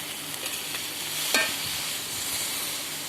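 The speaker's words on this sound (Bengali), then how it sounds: "এখানে একটু ভাজা ভাজা করে নিলাম মশলাটা" Gentle sizzling of paste frying in a pan, with a soft steady crackle and a brief scrape of stirring midway.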